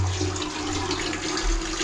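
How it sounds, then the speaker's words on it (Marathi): Hot water from a geyser runs steadily out of a tap in a home bathroom, a continuous close hiss and splash with no pauses. "गरम पाणी यायला सुरुवात झाली बघा"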